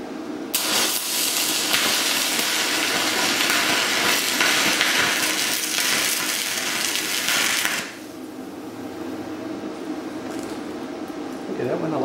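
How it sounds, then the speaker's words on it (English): Stick welding with an AHP Alpha 160ST lunchbox welder and a 7018 rod on two pieces of metal gives off a loud, steady crackling hiss. The arc runs for about seven seconds and then cuts off, leaving quieter background noise. "let's see if we can weld 2 pieces of metal together"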